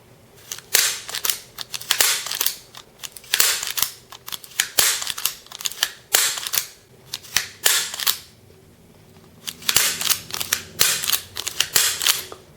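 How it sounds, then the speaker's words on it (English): Sharp trigger clicks and snaps from a Marushin Cop .357 double-action toy revolver, coming in uneven bursts of several clicks with short pauses between them, close up and with no talking. "If you don't pull the trigger all the way so that it clicks, it won't rotate."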